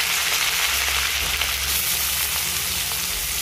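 Curry leaves and green chili sizzling in hot oil with cumin, a dense, steady crackling fry heard close and loud throughout, with faint stirring.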